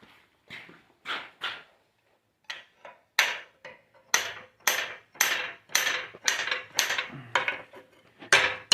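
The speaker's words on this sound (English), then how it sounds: "Let's switch to a little bit lighter hammer for that." A lighter forging hammer strikes hot iron while shaping a miner's candle holder, about fifteen bright ringing blows in uneven bursts, close and loud, with short pauses between groups.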